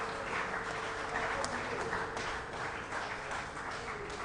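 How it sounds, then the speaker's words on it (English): A round of applause for the guest of the month: a steady crowd of hands clapping fairly evenly, moderately loud and sustained, with some voices mixed in beneath. "a round of applause, please."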